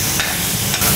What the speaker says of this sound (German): Wenn wir die Hühnchenstreifen jetzt braten, sollten wir darauf achten, dass sie nicht ganz durchgebraten sind.